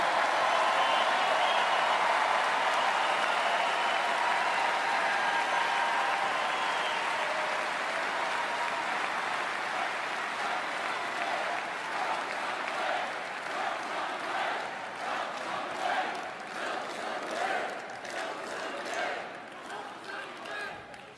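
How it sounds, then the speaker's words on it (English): A large crowd cheers and applauds at a political speech, a dense, sustained roar that holds steady and then thins slightly toward the end, with scattered shouts rising through it. "it is so nice to hear you cheering for what I just said"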